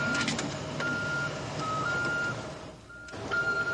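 An old-time ice cream truck rolls down West 34th Street with a steady, close engine rumble and an intermittent electronic beeping tone over it.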